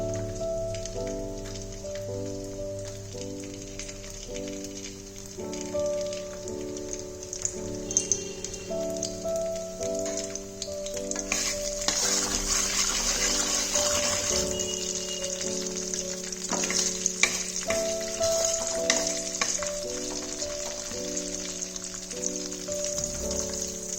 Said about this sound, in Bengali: বিনসগুলো আমি ফ্রাই করে নেব।